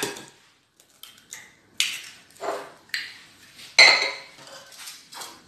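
A spoon stirring warm milk, sugar, salt, baker's yeast and an egg in a bowl, with repeated clinking scrapes against the bowl in steady strokes, close and fairly clear, with no talking.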